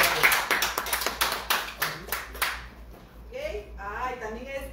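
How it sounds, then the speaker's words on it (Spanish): Audience clapping at a diploma ceremony for a communication workshop, a burst of sharp claps fading after a couple of seconds as a voice begins speaking. "Aplausos para Gaby."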